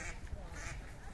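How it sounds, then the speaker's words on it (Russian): Tame ducks quacking by a river flowing into Lake Onego in a Karelian town, several close quacks over outdoor ambience with a voice speaking nearby. "Утки ручные, вообще ничего не боятся, их здесь кормят."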